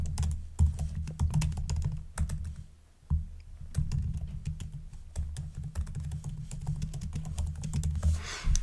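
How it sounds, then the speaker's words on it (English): Steady keyboard typing with rapid, uneven keystrokes, close and clear, continuing without pause and no voices. "just me typing the rest of the episode"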